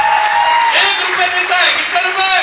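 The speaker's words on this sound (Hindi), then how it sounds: "इनके हस्बैंड के लिए एक बार ताली बजाओ" A seminar audience claps together in a burst of applause for a woman's husband, a dense, steady patter of many hands with a voice or two faintly mixed in.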